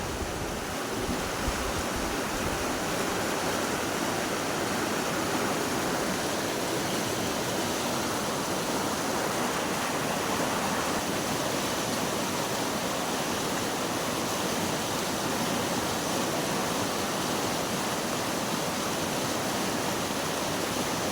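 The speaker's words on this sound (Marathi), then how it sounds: "पाणी खवलतंय बघ कसलं" A monsoon stream rushes and churns close by, a loud, dense, unbroken roar of turbulent water with no pauses.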